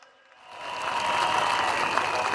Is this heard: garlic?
no